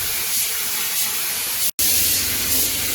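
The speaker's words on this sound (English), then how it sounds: "Instructions said to lay down a coat of black paint first," An aerosol can sprays a coat of black paint onto a new trunk floor of a 1969 Pontiac, a steady close hiss broken by one very short pause.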